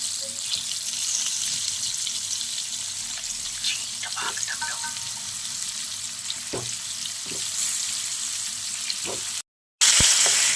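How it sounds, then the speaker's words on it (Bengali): Pointed gourd (potol) rubbed with salt and turmeric fries in oil with a soft continuous sizzle and occasional utensil scrapes. The sound cuts out briefly near the end, then returns louder. "আমি পটলটা একটু নুন আর হলুদ মাখিয়ে এবার তেলের ওপরে ভেজে নেব"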